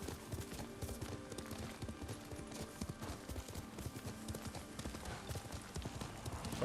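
Horse hooves clip-clopping in the Ghost of Tsushima video game, a brisk, steady run of rhythmic hoofbeats throughout, moderately loud under the game's background ambience.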